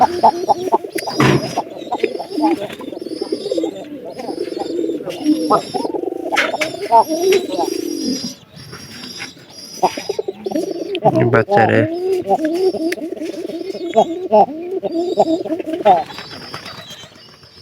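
Domestic pigeons coo continuously and close by in a loft, a repeated throaty rolling call that carries on nearly unbroken, while someone speaks briefly over it.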